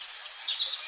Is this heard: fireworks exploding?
no